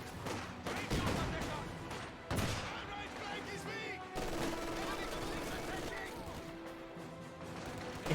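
Company of Heroes 2 battle gunfire: dense, continuous rifle and machine-gun bursts with explosions in a wartime infantry fight, loud and sustained, with a voice speaking under the din.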